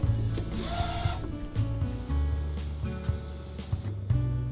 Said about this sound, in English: Open the cover, then press the ink button to free the printhead.